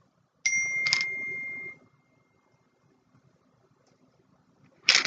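A phone text message notification ding, a bright tonal chime that rings out and fades over about a second, then another chime starts at the end, in a quiet room.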